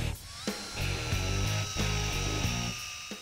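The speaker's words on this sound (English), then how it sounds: "we like this simple stripe-off wheel, which kind of acts like a big giant pencil eraser" Rubber stripe-off eraser wheel on a power tool peeling decals from a 1978 Pontiac Trans Am Bandit tribute, a steady close whine with pulsing, grinding low rumble and brief pauses, no talk.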